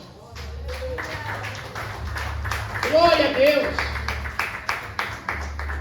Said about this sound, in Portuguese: louve a Ele com as tuas palmas